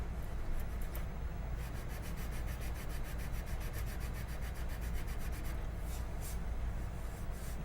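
Fine sandpaper rubbing on a plastic model kit of a starship, a steady close scratchy rasp of continuous back-and-forth strokes with no talking.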